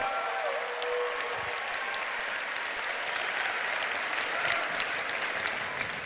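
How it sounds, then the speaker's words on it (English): A large crowd at a Jerusalem Day opening celebration in Jerusalem applauds, a thick continuous roar of clapping that stays even and full for the whole stretch. "Give yourselves a big round of applause."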